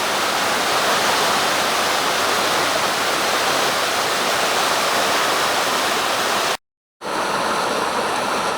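Constant roaring rush of Mill Creek Falls, loud and close, broken once by a brief silent gap before the roar resumes.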